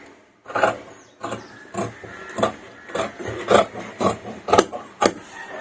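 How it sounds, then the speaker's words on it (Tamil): Scissors cut blouse fabric by hand for a close-neck blouse, giving a series of repeated rasping snips and rubs at a steady pace, close up with no talking. "வெட்டுறேன் பாருங்கள்"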